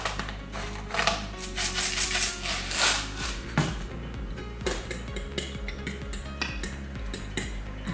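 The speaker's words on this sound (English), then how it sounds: "I'm going to add a little bit of pepper for taste" Pepper is ground close up into a spinach and feta omelette mixture, giving quick clicky, crunchy grinding bursts with small clinks against the dish and no talking.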